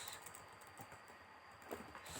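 Quiet, fairly quick keystrokes on a computer keyboard while code is entered, a steady patter of soft taps at close range with no talking.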